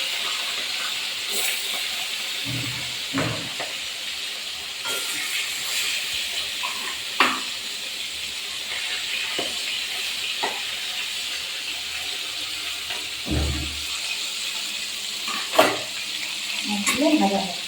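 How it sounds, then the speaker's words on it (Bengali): Hilsa fish pieces fry in hot oil, a steady soft sizzle and hiss with occasional sharp crackles and spatula knocks, close up and without talk. "তেল গরম হয়ে গেছে, আমি মাছগুলো ছেড়ে দেবো।"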